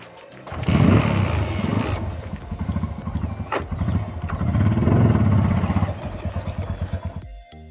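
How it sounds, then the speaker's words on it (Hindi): A motorcycle engine cranks and catches with a loud roar, then settles into a close, steady idle whose rapid pulses swell with throttle blips before cutting off abruptly. "तो अभी मैं बाइक को स्टार्ट करता हूँ और हम निकलते हैं जिम के लिए।"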